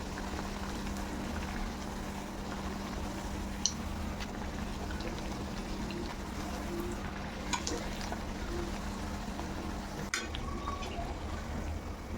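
Potato puris fry in oil in a pan, giving a steady, even sizzle with a low hum underneath and an occasional small clink, and no talking.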